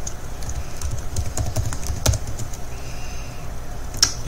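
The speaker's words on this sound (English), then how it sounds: "I'm going to go ahead and just type up an email message" Someone types an email on a computer keyboard with quick, close clicks in an irregular rhythm over a low steady hum of room and radio noise.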